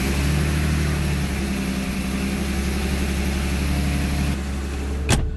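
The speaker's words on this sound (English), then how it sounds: "So we're just going to start the car and make sure everything works." A BMW E30 Series 1 sits at a steady idle, its engine droning evenly and close by with no talk, then the tone drops slightly near the end and a single sharp click follows.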